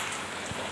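Rain falls steadily outdoors, a dense even hiss of drops spread across the whole brief moment.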